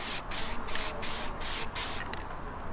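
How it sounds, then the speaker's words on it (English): Halfords grey primer sprayed from an aerosol can onto a car bumper grill, a series of about six close, loud hissing bursts with short gaps between them. "we've got some Halfords Grey primer"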